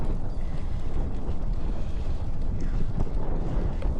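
Wind blowing across open countryside among yellow fields, a loud continuous roar buffeting the microphone with low rumbling gusts and no speech.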